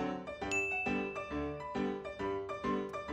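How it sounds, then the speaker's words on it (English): Bells ring in a steady sequence of clear chimed strikes, about eight evenly spaced tones sounding loud and alone. "21 bells"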